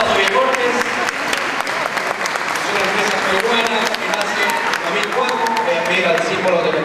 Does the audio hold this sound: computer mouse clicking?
no